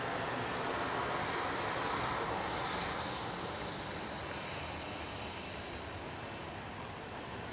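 A Boeing 737-800 airliner in special livery passing at Dallas Love Field, a loud sustained broadband jet roar that slowly fades, with no voices.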